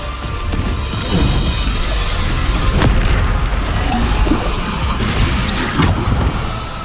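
Repeated booming blasts from the Bombarda explosion spell sound in Hogwarts Legacy, several heavy thuds landing in quick succession over constant rumbling battle noise.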